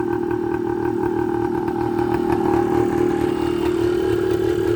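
A 1980 Suzuki TS125 motorcycle engine idles steadily up close, its even mid-pitched drone holding constant with a faint rise toward the end and no talking over it.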